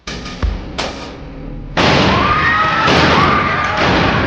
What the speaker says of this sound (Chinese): 3枪下去，枪枪毙命。